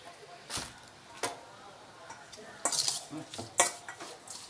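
A utensil scrapes and clinks around a pan in a few separate strokes while stirring a Thai apple snail dish, with quiet pauses between them and faint background noise.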